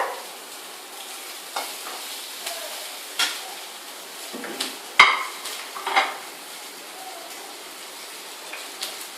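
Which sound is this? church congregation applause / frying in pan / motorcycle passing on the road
frying in pan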